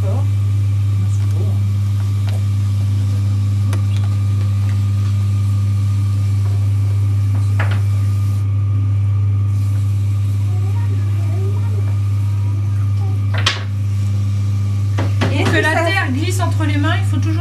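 A potter's wheel spins while stoneware clay is thrown, giving a steady, loud low motor hum throughout; voices talk briefly toward the end.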